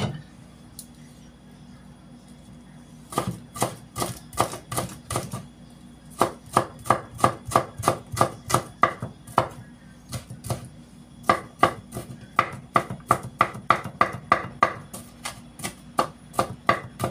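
A knife coarsely chops garlic and shallots on a cutting board, brisk rhythmic knocks in several steady runs separated by short pauses, close and clear.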